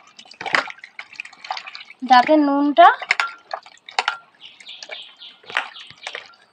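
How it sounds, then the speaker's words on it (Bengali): A hand stirs cut raw mango pieces in salted water while making mango murabba, giving intermittent close, wet sloshes and drips, with a brief voice sound partway through. "এবারে কাটা কাটা আমগুলো দিয়ে দেবো। দিয়ে হাত দিয়ে ভালো করে আমটাকে ভিজিয়ে"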